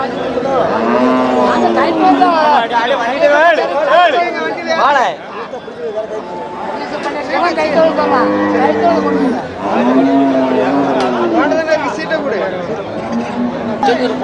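Cattle moo at the Melapalayam cattle market in Tamil Nadu, several drawn-out calls close by amid constant crowd chatter and people talking throughout.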